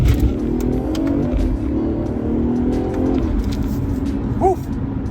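A 2017 BMW 540i's B58 engine with a JB4 tune revs up close, its pitch climbing steadily through the gears before easing off, loud and throaty.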